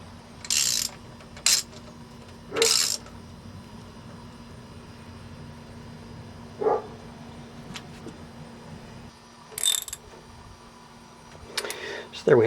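A wrench tightens a bracket on a marine engine with a cracked block, giving a few sharp metallic ratcheting clicks and clanks spaced irregularly over a low steady hum, close by.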